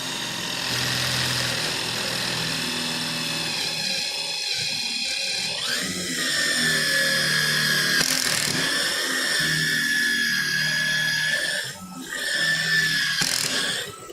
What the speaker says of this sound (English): And let's start drilling.